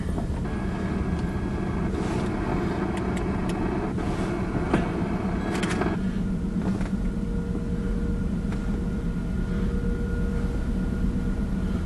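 A Pan Am Railways train rumbles steadily nearby, a continuous low roar with faint clanks and squeals of railcars rolling past, no voices.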